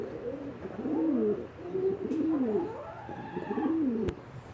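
Pet pigeons or doves coo in soft, rolling phrases, several overlapping calls close by over about four seconds, with a faint click near the end and no voices.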